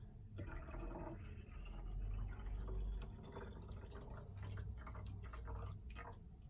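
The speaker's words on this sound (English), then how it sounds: "And then fill the rest of it up with water." Water runs into a bottle from a tap in a steady close splashing stream, quietly filling for several seconds with no voices.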